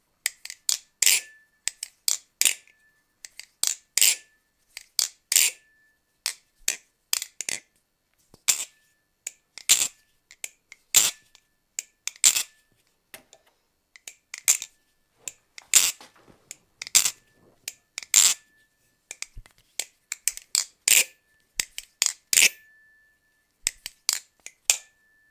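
Freshly lubed Kraken Raken V3 balisong knife flipped, sharp metallic clicks and clacks in irregular quick bursts, crisp and close against near silence.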